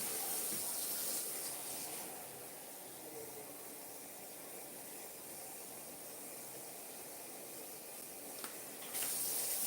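Water is poured into a cooking pot for Kraft macaroni and cheese. It makes a steady, soft hissing rush that runs for several seconds, with no voices.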